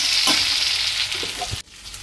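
Loud, close sizzling of four ripe chilies frying in hot oil, with a few soft stirring knocks before the hiss drops away abruptly.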